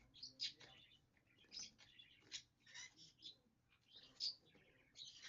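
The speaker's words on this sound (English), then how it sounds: "Yes, everybody is chirping now. Chirp, chirp, chirp." A pet bird chirps indoors in a string of quick, high, thin tweets that rise and fall repeatedly, fairly faint and close, with a person speaking softly between the calls.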